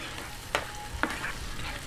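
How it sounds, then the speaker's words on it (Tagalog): Bagoong shrimp paste sautés and simmers in a pan, giving a soft, steady sizzle broken by two brief scraping stirs. "kulo na at gisang-gisa na po yung ating bagoong"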